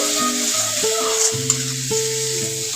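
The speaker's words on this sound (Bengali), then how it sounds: "সব মশলাগুলো দিয়ে সুন্দর করে কষিয়ে নিতে হবে।" Spices with turmeric, coriander powder and a splash of water fry in a pan with a soft sizzling hiss and occasional stirring scrapes, while steady musical tones play in the background.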